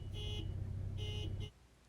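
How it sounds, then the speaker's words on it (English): A thin, muffled stock horn on a 2022 Honda Civic Sport Hatchback beeps twice in short bursts, heard faintly from inside another vehicle as if through closed windows, over a low engine rumble. "replace the meep horn that sounds like this from inside another vehicle"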